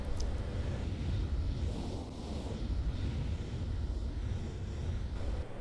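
Jetting up through the air in the Xbox 360 game Xenominer 2.6 gives a continuous windy rushing roar, steady and fairly loud throughout, with no talk.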